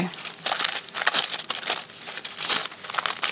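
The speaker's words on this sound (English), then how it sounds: "I hope from the sound of the tissue you can kind of get a sense of how it is quite a stiff tissue" Stiff coated tissue paper crinkling and crackling in quick, irregular bursts close up while being handled for a canvas artwork, with a voice talking faintly underneath.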